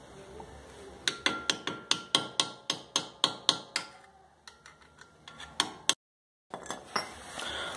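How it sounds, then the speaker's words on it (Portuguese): Steady metallic hammer blows tap the side of a stripped screw on a car brake disc, about a dozen sharp evenly spaced strikes, a brief pause, then another quick run of blows, close and alone without talk. "vai batendo na lateral dele conforme que ele vai rodando, vai batendo no sentido da rosca do parafuso"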